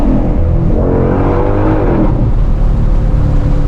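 A 2022 Shelby GT500 accelerating hard, its loud, close engine note climbing steadily in pitch for about two seconds before easing into a lower, sustained roar.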